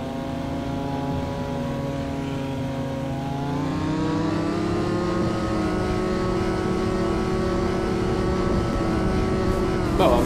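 Engine hum of a car driving in the snowy video game SNOW, a steady, fairly loud drone with layered harmonic tones that slowly rise as it speeds up, continuous throughout.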